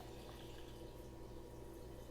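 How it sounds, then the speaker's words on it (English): Turmeric tea pours from a pot into a measuring cup in a home kitchen, a steady unbroken liquid stream with a soft rushing hiss and no pauses or talk. "I'm going to pour it into a measuring cup to make pouring it"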